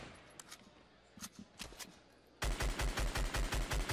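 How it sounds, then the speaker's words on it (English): An assault rifle fires in Fortnite as a rapid, evenly spaced burst of about a dozen loud shots in the final second and a half, after quieter scattered game noises. "Even when he's shooting just the assault rifle."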